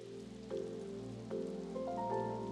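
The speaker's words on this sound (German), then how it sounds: "Ja, aber sieh diesen Regen an." Rain falling in the Switch farming game Doraemon Story of Seasons: a soft, steady hiss that stays under gentle, sustained game music.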